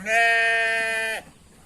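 A sheep on a goat-and-sheep farm gives one loud, sustained bleat lasting about a second, close by, while rams compete over a ewe in heat; no one talks.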